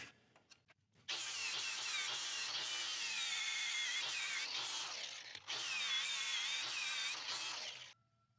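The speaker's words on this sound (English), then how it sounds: "so I'm going to grind a little bit more" Metal being ground near a V-band clamp, a steady, loud, harsh grinding that runs for about seven seconds after a few faint knocks, with one brief dip partway through before it cuts off.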